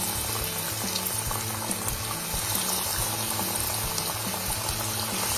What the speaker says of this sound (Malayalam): വറുക്കാൻ വേണ്ടി ഒരു പാനിൽ എണ്ണ വെച്ചു. എണ്ണ ചൂടായി കഴിഞ്ഞ് കഴിയുമ്പോൾ നമ്മുടെ ഓരോ കട്ട്ലേറ്റ് ഇട്ട് കൊടുക്കുക.